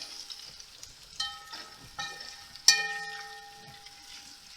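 Vegetables sautéing in a kazan, a soft steady sizzle broken by a few sharp metallic clinks and taps of a utensil against the pot, one knock ringing out louder with a lingering tone.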